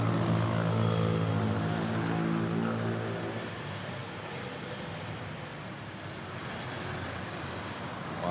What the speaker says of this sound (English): On short final, about to touch down. A350-900.